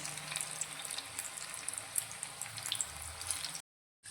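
A green fenugreek snack deep-frying in hot oil, a steady close bubbling sizzle with fine crackles that runs for several seconds before cutting off abruptly.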